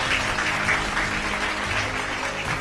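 A church congregation applauds and cheers for Jesus, a steady mass of clapping with raised voices mixed in, continuous and fairly loud from start to finish.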